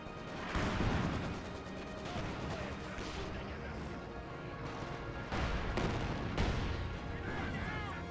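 Mortar shells and other artillery bursts in Company of Heroes 2 boom steadily through a busy battle soundscape, with a T-34-85 tank in the fray and heavier impacts landing around one and five to six seconds.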